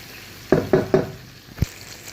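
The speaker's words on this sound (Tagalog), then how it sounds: "haluin lang natin siya ng mabuti guys ha" Spoon clatter inside a cooking pot of sopas, a Filipino macaroni soup made Ilocano style: three quick close knocks in a row, then a duller thud after a short pause, with a soft background hum and no talking.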